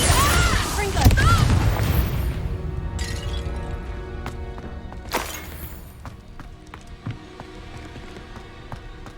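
Confringo fire-blast spells cast repeatedly in the Hogwarts Legacy video game, with sharp bursts and crackling impacts over a busy combat mix, as a voice calls out spell names.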